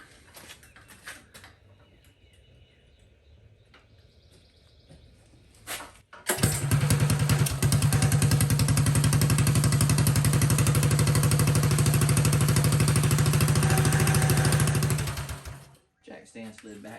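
A Coleman 196 mini bike engine, after quiet shuffling, fires up abruptly and runs at a loud, steady, fast-pulsing idle close by for about ten seconds before cutting off.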